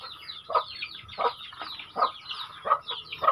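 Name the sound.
native chickens clucking at feeding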